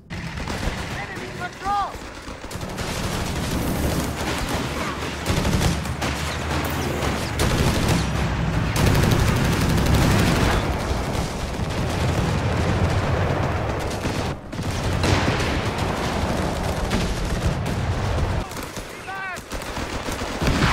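Sustained battle gunfire from the World War II strategy game Company of Heroes 3, dense overlapping rifle and machine-gun bursts filling the whole stretch at steady loudness, with a brief lull near the middle and end.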